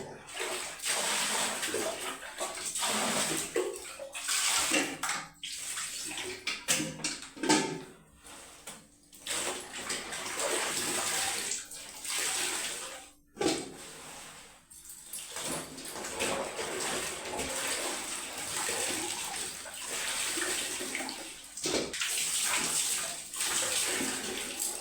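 Water runs and splashes continuously in a bathroom as soaked clothes are washed, steady and close, with brief sloshing breaks and occasional clunks.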